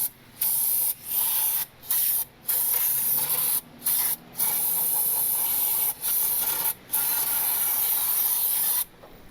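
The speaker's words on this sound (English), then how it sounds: "We're gonna clean off the cylinder first." Bursts of aerosol cleaner spray onto the cylinder of a blown turbo Honda Civic engine, a loud close hiss in repeated long blasts separated by brief gaps.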